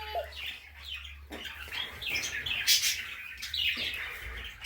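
Quail chicks in a heated brooder give a steady stream of high, thin peeps and chirps, close and overlapping, with brief pauses and no talk.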